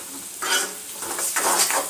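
Onions frying in oil and being stirred with a utensil: a steady hiss with scraping bursts of stirring, close and fairly loud, with no voices.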